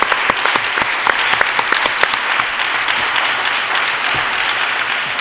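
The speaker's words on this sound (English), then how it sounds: "Mike deserves a huge round of applause" A panel audience gives Mike Snipes a round of applause, loud continuous clapping with distinct individual claps standing out near the front, steady across the whole stretch with no talking.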